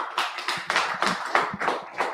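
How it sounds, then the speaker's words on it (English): A live audience claps in a sustained round of applause to welcome the next speaker at a Miami crypto livestream event, with dense overlapping hand claps swelling and continuing throughout. "So let's give him a round of applause."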